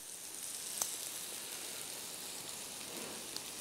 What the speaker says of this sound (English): I love sauteing mangoes.